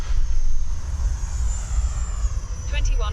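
A heavily loaded RC plane's electric motor gives a little thrust on landing approach, a steady whirring drone over wind rumble, fairly close and continuous.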